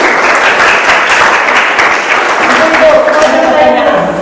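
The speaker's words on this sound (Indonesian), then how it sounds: "Kasih aplaus untuk kelompok Anda." Applause from a classroom group after a chemistry teaching presentation, loud, steady clapping from several people that lasts the whole stretch, with voices mixed in.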